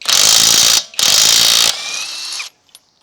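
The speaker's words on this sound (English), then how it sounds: "So we have an impact wrench" An impact wrench removing a car lug nut, two loud rapid hammering bursts close up followed by a softer whirring spin-down, no talk.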